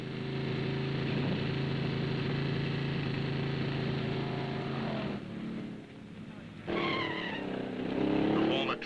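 Roaring hot rod engines and screeching tires at a drag strip, loud and sustained, dropping briefly before another high squealing burst near the end.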